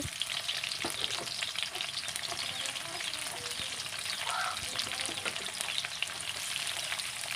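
Chopped onions and torn bay leaves fry in hot oil for a home-style chicken and potato curry, a steady dense sizzle running throughout with occasional scrapes of stirring, close and fairly loud with no talk.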